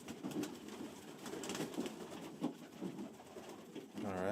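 New York Flying Flights hen pigeons coo steadily in a loft, with soft rustling and shuffling around them and a brief flutter near the end.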